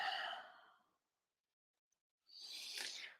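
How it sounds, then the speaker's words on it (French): Two deep breaths during a guided breathing exercise: a long, airy exhale that trails off, a second of silence, then another strong breath, both close and clear with no talking. "Expire, laisse aller."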